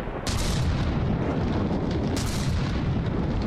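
Mortar fire in a From the Depths naval battle between warships, a dense continuous barrage of booming impacts and blasts, loud and close, with two sharper bursts standing out.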